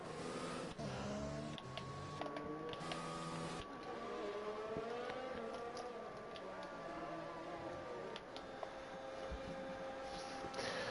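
F1 race cars in a sim racing game at Baku, engines droning and shifting pitch steadily throughout as multiple cars jostle on track, a continuous mid-level whine with no talk.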